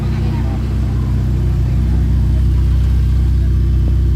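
A GT4 race car engine on a track gives off a steady, low, close rumble that swells slightly, with voices speaking over it.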